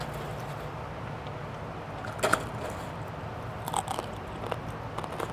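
Crispy fried pork and roast suckling pig are bitten close up, giving a couple of short crunchy snaps and then soft chewing against a quiet room background.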